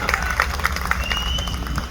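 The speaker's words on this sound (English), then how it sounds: "I guess I should stop for a second to let you guys clap" An audience at an outdoor freedom rally claps and cheers for a couple of seconds, a busy mix of hands and crowd noise with a few sharper tones cutting through.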